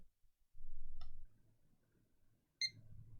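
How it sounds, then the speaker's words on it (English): A short electronic PC POST beep sounds once at startup of a gaming PC, then another brief tone follows, faint and clean over a low hum of running hardware. "there's a successful post beep"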